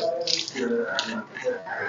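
Water splashes and runs over an animal's legs in a short, continuous close wash with uneven gushes and no voice.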